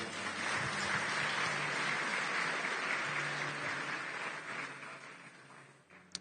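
A church congregation claps in sustained applause, a dense wash of many hands that holds steady and then gradually thins out, ending with a single sharp clap.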